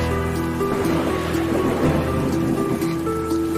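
Heavy rain pours down over a swamp logging deck in a thunderstorm, a loud, dense, steady roar with a deep rumble beneath it and machinery tones humming through.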